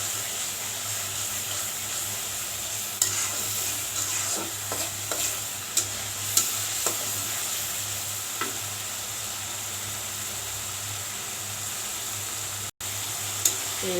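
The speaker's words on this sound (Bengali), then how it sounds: "মশলার উপর দিয়ে যদি তেল চলে আসে তাহলে মশলা কষানো হয়ে যাবে" Spice paste for a chicken curry cooks down in oil, giving a soft, continuous sizzle. A spoon stirs and scrapes the pan in light, irregular strokes, with one sharp knock near the end.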